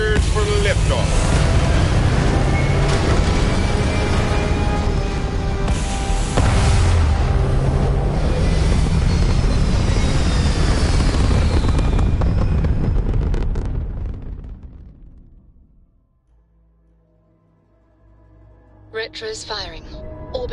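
A spaceship lifts off in Starfield with a loud, sustained roaring rumble that fades into near silence, followed by a brief mechanical burst at the end. A voice speaks over the roar.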